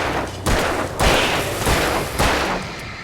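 Video game gunfire, a series of loud, close shots in irregular succession, each a sharp broadband crack with a brief rumbling tail, about five reports over a few seconds.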